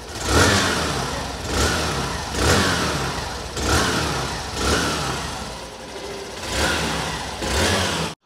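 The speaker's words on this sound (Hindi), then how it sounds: "काफ़ी ज़्यादा स्मूथ इंजन है इसका, ये देखो।" A 2024 Hero Glamour 125 motorcycle engine runs smoothly while being blipped, giving a series of short, regular revs that swell and fall back to idle about once a second, close by and with no talk.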